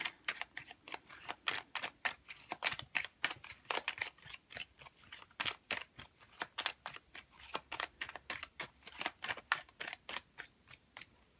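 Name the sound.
shuffling and drawing tarot cards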